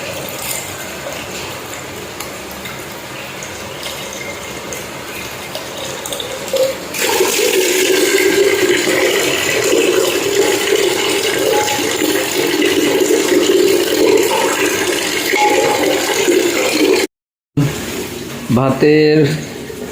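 Rice and lentils are rinsed under a running tap in a home kitchen. A loud, continuous gush of water grows stronger partway through, cuts off briefly, then resumes.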